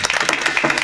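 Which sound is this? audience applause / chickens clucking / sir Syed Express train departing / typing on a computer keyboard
audience applause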